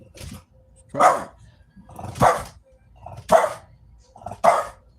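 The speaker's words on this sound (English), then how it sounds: "She's just barking at the wall." A dog barks four times in a steady rhythm, sharp and close, with short quiet gaps between each bark.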